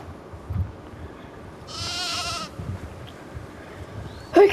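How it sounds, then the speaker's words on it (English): A single wavering sheep bleat in Planet Zoo rings out clearly over a soft, steady background rustle, with a short sharp sound right at the end. "Okay, so this is just sheep."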